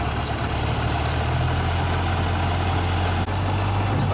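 A 1928 Austin 7 Chummy tourer's small engine drones steadily and close as the car sets off in first gear, a continuous low rumble with a brief dip near the end.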